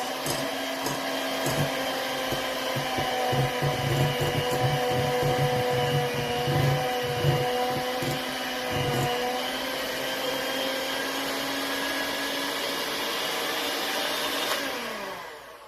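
An electric mixer blends carrot cake batter with freshly added sugar, its motor whining steadily and close up for about fifteen seconds before cutting off right at the end.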